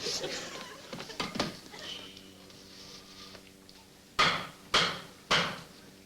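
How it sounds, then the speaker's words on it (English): Three sharp hammer blows strike a wooden table leg near the end, each loud and distinct, following a stretch of muffled bumps and background noise from a classic comedy scene. "You see, if I hammer it on the side, it'll squirt out on the top."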